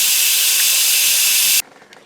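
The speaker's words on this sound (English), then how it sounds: "Let's see if there's any steam left in there." Steam hisses loudly and steadily from the release valve of an Instant Pot pressure cooker holding pork hominy stew, then cuts off abruptly, leaving a faint quiet tail.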